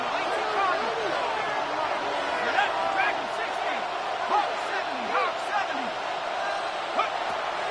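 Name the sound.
football stadium crowd noise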